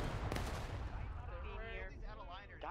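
Musket fire on a battlefield in the Civil War game War of Rights: a distant, muffled volley at the start, followed by a low rumble and someone speaking faintly over it.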